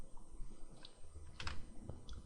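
Computer mouse clicks while working in an Excel spreadsheet, a few sharp, isolated taps at close range over a quiet room hum, with no talking.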